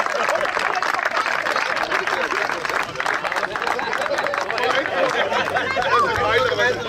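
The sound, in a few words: applause at a tractor race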